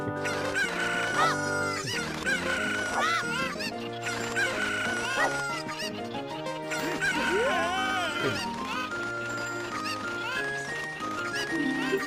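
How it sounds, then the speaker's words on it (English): Cuckoo chickens in the video game Zelda Ocarina of Time clucking and crowing repeatedly over game music, squawks scattered throughout at moderate level. "Just throwing cuckoos."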